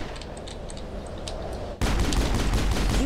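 Gunfire from the Mass Effect video game as bugs are shot: a dense, rapid fusillade starts quieter, then jumps abruptly louder and continues in a sustained barrage with no talking.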